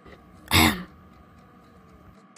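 A single sharp cough or throat-clear from someone unused to strong tequila bursts out close up, followed by quiet and the start of another at the end.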